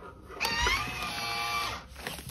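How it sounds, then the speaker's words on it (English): A home vacuum sealer runs for about a second and a half, a steady mechanical whine and hum with a click at the start and end, sealing one side of a food package. "the first time you put the vacuum seal package in, it's just gonna seal one side"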